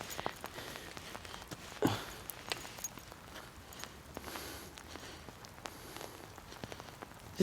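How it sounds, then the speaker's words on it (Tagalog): Heavy rain falls outdoors as a steady broadband hiss, with scattered sharper drop impacts and a few footstep-like taps. It is fairly faint and continuous, with no talking. "Inabutan na kami ng malakas na ulan."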